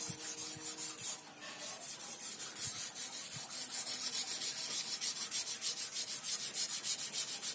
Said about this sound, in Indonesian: Pengamplasan ya, kita samakan permukaannya.